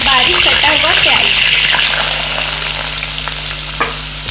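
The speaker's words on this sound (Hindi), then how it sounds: "अब हम इसमें 1 चम्मच जीरा डाल देते हैं, कड़ी पत्ता डाल देते हैं और बारीक कटा हुआ प्याज।" Cumin seeds, curry leaves and finely chopped onion hit hot ghee in a pan for dal khichdi, a loud steady sizzle and crackle with stirring that fades slightly as it goes.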